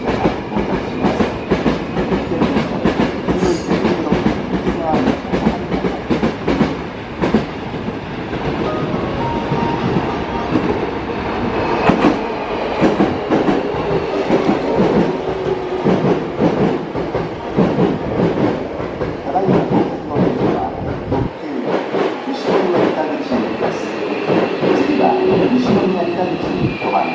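A Hankyu Kobe Line train rumbles and clatters into a station in Japan, steady rolling noise throughout, with a Japanese public-address announcement over it and a brief quiet gap near the end.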